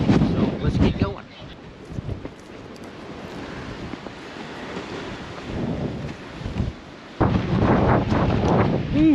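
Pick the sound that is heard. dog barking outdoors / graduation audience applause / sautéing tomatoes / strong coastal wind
strong coastal wind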